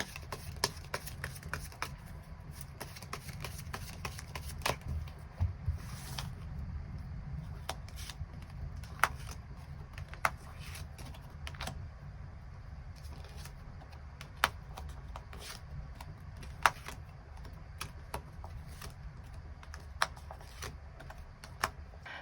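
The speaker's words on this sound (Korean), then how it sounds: "추가 카드 뽑아보도록 하겠습니다" Tarot cards are shuffled and drawn, a soft riffle and rustle with many sharp, irregular taps and flicks as cards are handled close by, and no voice.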